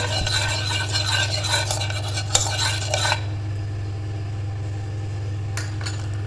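Fish pieces mixed with chaat masala and salt in a bowl, producing about three seconds of brisk, close scraping and clinking of utensil on bowl, then near quiet over a steady low hum, with no talking.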